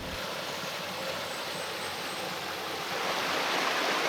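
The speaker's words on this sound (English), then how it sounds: "we're at Ao Yon Waterfall" A constant broadband rush of falling water from Ao Yon Waterfall in Panwa, Phuket, steady and fairly close, swelling a little louder toward the end.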